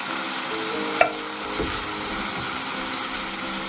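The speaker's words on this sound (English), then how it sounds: "Now that the meat's browned up, we're going to add in our refried beans" Refried beans dropped onto browned ground meat in a hot pan, a single soft thud followed by a loud, steady, close sizzle with faint stirring, no voices.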